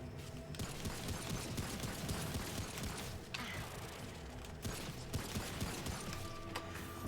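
Dense, continuous gunfire in the video game Remnant: From the Ashes, rapid mechanical bursts and clanks running without pause for several seconds at a loud, steady level.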